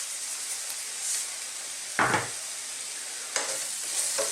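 Mushrooms frying gently over low heat in a pan for beef stroganoff, with a steady soft sizzle broken by a couple of brief stirring scrapes and knocks.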